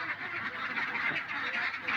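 Ducks quacking close by in a short, busy run of nasal calls that overlap and continue steadily.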